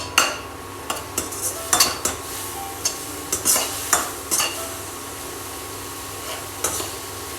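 Garlic sautés in a pan for Palak Paneer, a steady sizzle broken by repeated scrapes and taps of a spoon stirring against the metal, close and fairly loud, with no voices.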